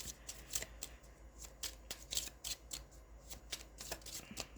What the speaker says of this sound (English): I'm just going to pull an extra card for the Page of Cups